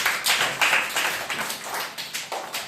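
Government school children clap in a classroom, a quick run of sharp, close claps in an uneven burst lasting a couple of seconds.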